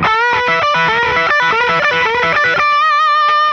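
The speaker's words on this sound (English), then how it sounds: "All right, so with distortion." Heavily distorted electric guitar playing a fast, choppy rhythmic riff, then ringing out on a sustained bent chord near the end; loud and close.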